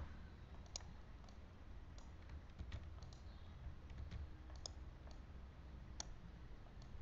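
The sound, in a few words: typing data on a computer keyboard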